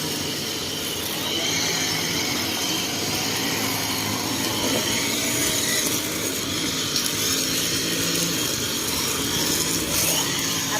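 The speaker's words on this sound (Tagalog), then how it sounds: "Ayan, ang grass cutter sila guys." A grass cutter trimming grass along a roadside runs as a steady, loud, whining motor drone with a continuous buzzing cutting noise for the whole stretch, close by, with no gaps.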